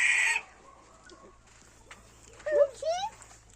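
Chickens in a backyard coop give a few scattered clucks and short squawking calls, moderately near, with a loud burst at the start and rural background quiet between calls.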